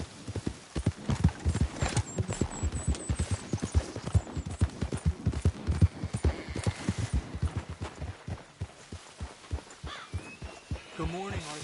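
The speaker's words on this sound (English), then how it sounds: "Arthur, get that horse out of here." Video game horse hooves clip-clop in a steady, close rhythm through the whole stretch, with a faint whinny near the end and voices talking briefly over the walking.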